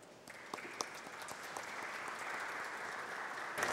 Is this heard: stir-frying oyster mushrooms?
no